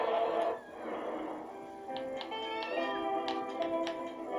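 Pet kitten meowing repeatedly in the room, several drawn-out cries over roughly three seconds, fairly close and clear, with game sounds faintly underneath.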